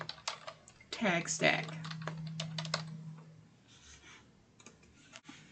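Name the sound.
typing on a computer keyboard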